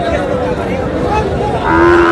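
A cow moos loudly near the end over a steady din of a crowded cattle market in Chittagong selling Sahiwal bulls and calves, with indistinct voices murmuring throughout.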